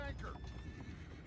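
A horse neighs and whinnies in the Red Dead Redemption 2 video game, with clip-clop of hooves and game ambience under it in a brief, steady burst.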